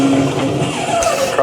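A race car in a sim racing video game corners hard, engine roaring loud and close with tyres scrubbing and skidding through the turn, a brief continuous burst with no talk.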